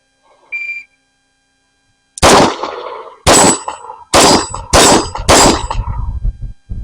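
Gunshots strike steel targets: five loud sharp bangs, each with a metallic ring, come in quick succession after a faint tone at the start.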